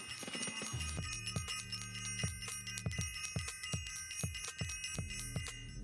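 A bright bell rings repeatedly in a steady rhythm, each strike ringing out with a sustained metallic tone over a low accompanying beat.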